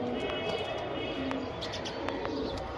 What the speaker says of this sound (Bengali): খুব সুন্দর কবুতর দেখেন